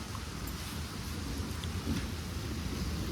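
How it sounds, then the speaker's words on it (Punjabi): Light, steady rain patters on surfaces outdoors as a continuous hiss of drops, with no one speaking. "ਬਸ ਹੁਣ ਟਾਮਾ ਟਾਮਾ ਜਿਹਾ ਪੈਂਦਾ ਮੀਂਹ"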